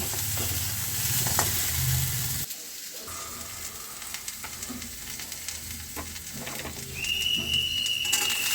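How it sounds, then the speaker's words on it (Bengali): Jackfruit seeds fry in a pan with a steady, close sizzle and occasional stirring scrapes, the bubbling briefly dropping away before resuming, a faint high whistle appearing toward the end. "আর কাঁঠালের দানাটা দিয়েও কাঁঠালের দানাটাকে ভালোভাবে ভেজে নেব।"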